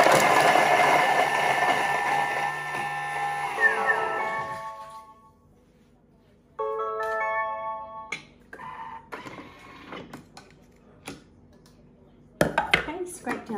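A Thermomix chops turmeric with a loud whirring blade run that stops, followed by scattered clinks and bumps around the kitchen.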